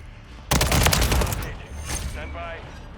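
A rapid burst of WSP 9 submachine gun fire in Modern Warfare 3, loud and close, fading into softer game effects and a faint voice afterward.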